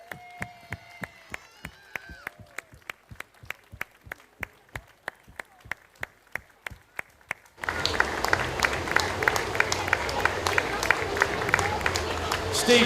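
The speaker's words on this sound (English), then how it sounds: "can we just have a 20-second collective round of applause for absent friends?" Crowd at an outdoor duck race begins a collective round of applause, dense sustained clapping and cheering that swells in after a series of rhythmic single claps.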